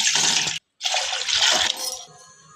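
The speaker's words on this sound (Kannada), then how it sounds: "ನೋಡಿ, ಒಂದು ಪಾತ್ರೆ ಇಟ್ಕೊಂಡೀನಿ. 2 ಗ್ಲಾಸ್ ನೀರು ಹಾಕೋತೀನಿ ನಾನು." Two glasses of water poured into a cooking pot to make jaggery syrup, a steady splashing rush that breaks off briefly, resumes, then thins to a faint trickle at close range.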